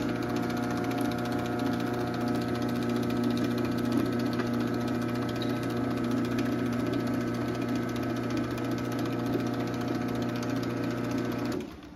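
A Chamberlain 248730M chain-drive garage door opener hums steadily as its chain runs around the sprocket. The whirring motor drone stays close and even for several seconds, then cuts off abruptly at the end.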